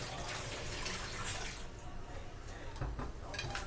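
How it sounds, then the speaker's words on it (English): Tap water runs over a potato being rinsed in a kitchen sink, a steady close splashing rush with a few louder spatters near the end. "So we're going to rinse our potato off again."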